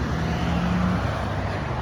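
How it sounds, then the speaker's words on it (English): Steady road traffic from cars passing nearby during an outdoor walk, a continuous low rumble and hiss with no clear individual pass-bys standing out. "and you hear cars,"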